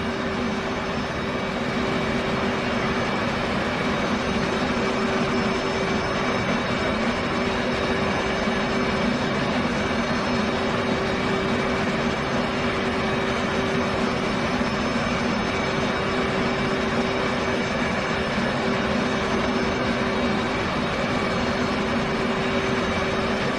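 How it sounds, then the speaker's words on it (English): Left engine of an F/A-18C Hornet cranking in the flight simulator DCS World, a loud steady turbine whine and roar with a sustained tonal hum, unbroken throughout and without speech. "Now it is time to crank the left engine."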